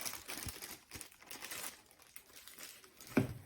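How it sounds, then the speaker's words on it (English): Quiet crinkling of a thin plastic bag as it is opened during a tattoo workstation setup, a few soft crackles and rustles with one sharper crinkle near the end. "we get a plastic bag like this. You open it"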